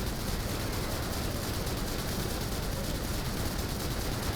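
A continuous barrage of rapid-fire missile bursts in The First Descendant, dense and noisy like heavy video game weapon fire, with no pauses throughout.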